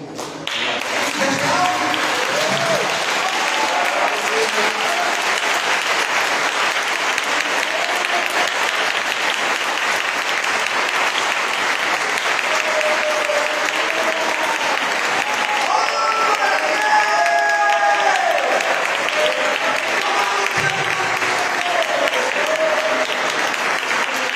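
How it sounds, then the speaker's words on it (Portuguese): A church congregation applauds during a Sunday worship service, sustained loud clapping from a large crowd that runs steadily throughout, with voices calling out and speaking over it at times. "que você desse uma salva de palmas ao Senhor"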